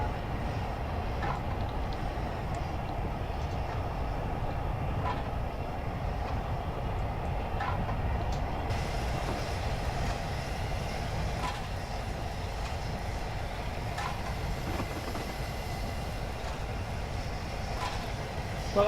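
Flying Scotsman steam locomotive in a train simulator game, a steady rolling rumble with a faint rhythmic clatter of wheels on rail joints, continuous and unbroken throughout.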